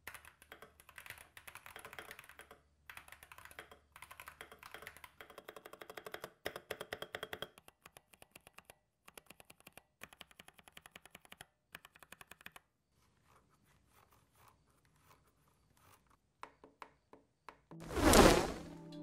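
Typing on a Skyloong GK75 optical-switch keyboard with TiGrey keycaps: quick, close clacking keystrokes in uneven bursts, thinning into sparse taps before one loud, heavy thump near the end.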